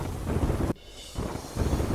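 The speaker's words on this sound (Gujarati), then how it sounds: "પવન સાથે વરસાદી ઝાપટા" Rain showers driven by wind around the villages near Patan roar in a gusty, broadband rush that drops briefly to near quiet midway before surging back strongly.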